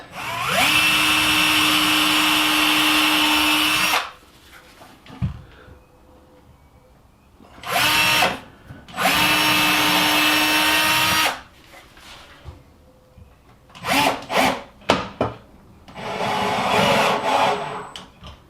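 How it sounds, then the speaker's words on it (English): A power drill whirs in several bursts, pre-drilling a wooden cabinet, long high-pitched runs then short stutters, with quiet handling noises between and no talking. "I'm going to pre-drill it."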